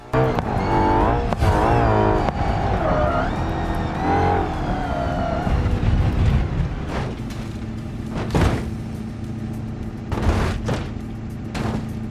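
A supercar with a gravel rally version revs and races in a virtual reality driving game, with engine roars, rising and falling pitch, and sharp crashing impacts.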